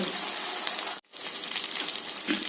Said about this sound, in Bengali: আমি এগুলোকে ভালো করে লাল লাল করে ভেজে নেব